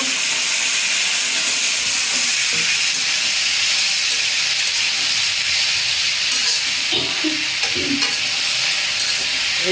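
Onions dropped into hot oil in a village kitchen, a loud continuous sizzle and hiss with occasional stirring scrapes, steady throughout with no talk.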